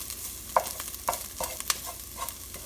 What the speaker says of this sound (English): We stir the lemongrass paste until it turn golden brown in color